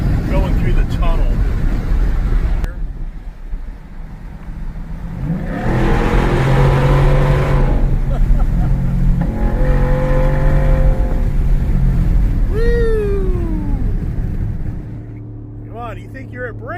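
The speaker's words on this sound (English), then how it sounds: "we'll just kind of see how this thing sounds going through the tunnel" A race truck engine roars steadily through a tunnel, the noise swelling and echoing, with a brief rising whine near the end.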